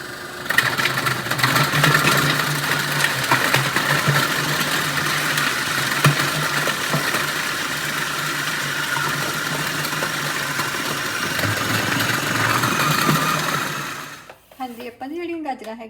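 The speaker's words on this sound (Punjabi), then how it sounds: "ਗਾਜਰਾਂ ਜੀ ਇਹਨਾਂ ਨੂੰ ਆਪਾਂ ਗ੍ਰਾਈਂਡ ਕਰ ਲੈਣਾ ਹੈਗਾ ਇਹਨਾਂ ਦੀ ਪੂਰੀ ਬਣਾ ਲੈਣੀ ਹੈ" An electric mixer grinder blends carrots into a puree, a loud steady whirring drone that runs close for about fourteen seconds and then cuts off, after which a voice speaks briefly.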